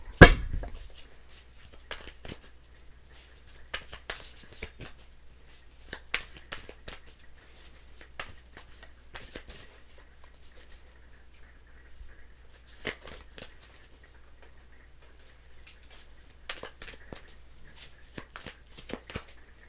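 Tarot cards are shuffled repeatedly up close, bursts of riffling and sliding with brief pauses between, in an otherwise quiet room.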